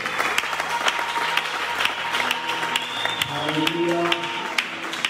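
Church congregation applauding and cheering for God, a dense wash of clapping with crowd voices and music tones underneath, steady and loud throughout.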